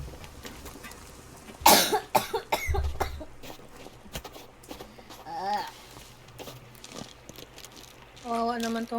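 Someone coughs during a Sons of the Forest game session, with a sharp loud cough burst early on, then quieter throat noises, shuffling and scattered sounds under background game audio.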